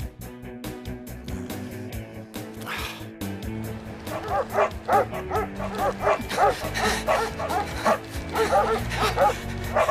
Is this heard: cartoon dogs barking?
yes